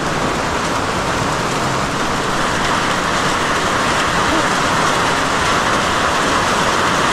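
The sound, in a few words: rain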